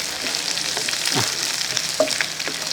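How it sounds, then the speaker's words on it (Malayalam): Sliced shallots, dried red chillies and curry leaves frying in hot oil for sambar, a steady close sizzle with occasional scraping stir strokes. "ഒരു മൂന്നാലഞ്ച് ചെറിയ ഉള്ളി അരിഞ്ഞു വെച്ചിരിക്കുന്നത് അതുകൊണ്ട് അങ്ങോട്ട് ഇട്ട് കൊടുക്കാം രണ്ടു മൂന്ന് വറ്റൽ മുളക് ഇത്തിരി കറിവേപ്പില ഒന്ന് ഇളക്കി കൊടുത്ത്"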